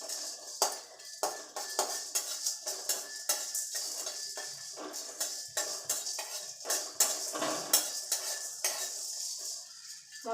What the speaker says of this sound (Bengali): দারচিনি, লবঙ্গ, গোলমরিচ, একটা স্টার আর হচ্ছে জায়ফল মানে জয়ত্রী সরি, এইগুলো দিয়ে শুকনো খোলায় একটু ভেজে নেব।